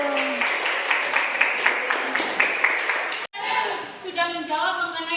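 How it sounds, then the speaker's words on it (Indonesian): A classroom of students claps together in a brisk burst of applause for about three seconds, then the clapping stops abruptly and a teacher's voice carries on speaking. "Kasih tepuk tangannya tepuk dong."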